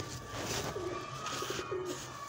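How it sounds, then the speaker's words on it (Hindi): A pair of banded pigeons in a small backyard pigeon setup, the male courting the female, gives soft, repeated throaty coos close by over a steady low background hum. "पट्टे कबूतर"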